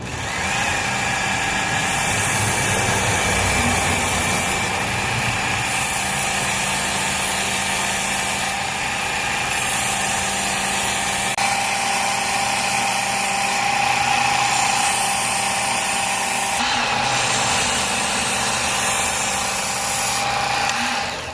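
A Work Sharp powered knife sharpener runs continuously with a loud, steady motor whine and belt hiss while a blade is honed, with periodic slight changes in tone as the blade passes.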